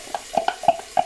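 Sofrito with tomato frying in a pan as it is stirred, a handful of quick scraping and clicking strokes over a soft sizzle, close and brief.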